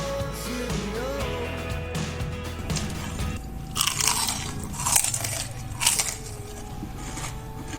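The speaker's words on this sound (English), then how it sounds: "This is very crunchy and very nice shrimp." Close, crisp crunching bites into crispy fried shrimp, with several sharp crackling bursts over a low background of music.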